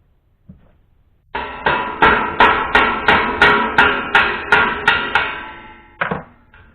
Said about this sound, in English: I'm going to bend this flange down 90 degrees.